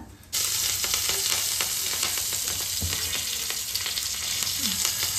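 White sesame seeds and fresh curry leaves drop into hot oil on a low flame, setting off a sudden loud sizzle that keeps crackling and spitting steadily, with some stirring and no voices.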